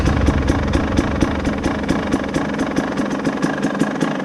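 A two-stroke dirt bike engine, a KTM 300 XC-W TPI or Husqvarna TX300, runs close by at a steady idle with a fast, even pulsing beat, loud and continuous without any talk.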